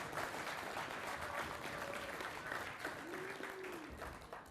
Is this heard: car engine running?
no